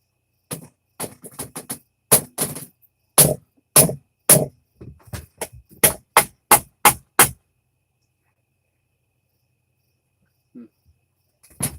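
A series of sharp, percussive blows, some in quick pairs, others spaced out, then a long pause before two last faint knocks.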